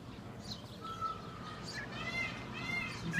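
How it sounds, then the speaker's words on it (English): Several robins calling in short chirps and whistles over a steady background hum, moderately loud and fairly close. "These are some robins he's rescuing."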